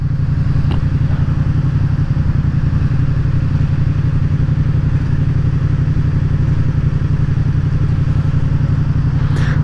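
A Honda CB500 motorcycle engine roars steadily and loudly up close for several seconds, with a constant low rumble and mechanical clatter.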